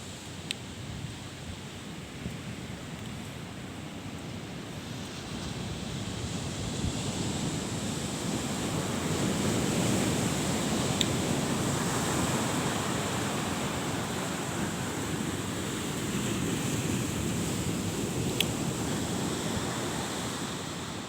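Surf rolls onto Pasir Tinggi beach at Sinabang, Aceh, a steady broad wash of waves mixed with wind buffeting the microphone, swelling slightly in the middle and carrying on without voices.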